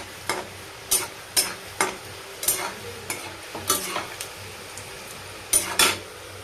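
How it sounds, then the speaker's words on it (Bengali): Panch phoron spices frying in a pan for a vegetarian Bengali dish, a steady sizzle broken by about a dozen sharp scraping stirs of a utensil against the metal, close and clear, with no voices. "দিয়ে দিলাম 5 ফোড়ন।"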